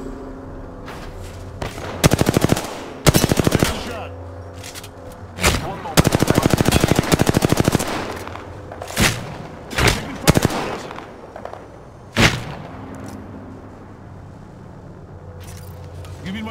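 Gunfire aimed at the player in a battle royale video game: repeated loud automatic bursts and single sharp shots, close and intense in the first half, thinning to scattered shots and quieter ambience later.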